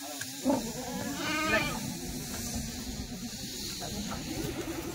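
Several Kathiawari goats bleat in quick, wavering calls early on, then softer bleats continue over a steady farmyard background.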